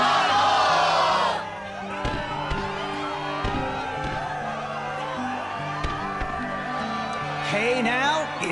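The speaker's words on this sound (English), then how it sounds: "the crowd is fired up" Game crowd in Kingdom Hearts II Final Mix cheering at an arena struggle match, a loud burst of shouting that fades into steady background crowd noise under music.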